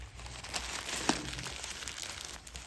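A plastic packaging bag crinkles and rustles up close while a rechargeable work light is unboxed, a continuous soft crackle with one sharper crunch midway and no talking.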